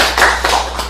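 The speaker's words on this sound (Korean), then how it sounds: "박수 한번 칠까요?" A short burst of audience applause at a tea-meditation and taste-evaluation lecture, a few quick overlapping claps rising and fading within a second, fairly close and loud.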